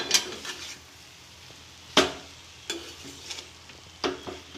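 Onions are stirred in a frying pan, several distinct spatula scrapes and knocks against the pan over a faint low sizzle, close and fairly quiet.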